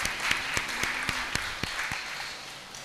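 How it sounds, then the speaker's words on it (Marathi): An audience at a Guru Purnima festival discourse gives loud, sustained applause, with individual claps cracking sharply through a dense, continuous wash of clapping. "त्यांच्या नावाने पण टाळ्या वाजवूया"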